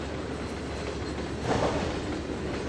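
Steady rumble and rolling rail noise from a train running on track in the Trainz 2022 railroad simulator, continuous with a slight swell midway, no talk.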